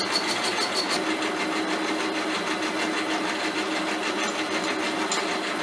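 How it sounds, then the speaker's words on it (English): A milling machine table is traversed by a hand-turned feed wheel in a hand-over-hand motion, giving a steady mechanical whir with fine repeated ticking that runs continuously without pauses. "I'm using a hand-over-hand motion on the feed wheel. Just helps with an even"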